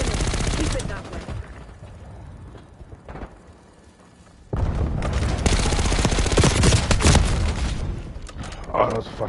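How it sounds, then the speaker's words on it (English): Rapid automatic gunfire in Call of Duty Black Ops 6 multiplayer, loud sustained bursts of close shots with mechanical clatter, quieter after an opening volley, then a renewed dense barrage. "All those fucking shots."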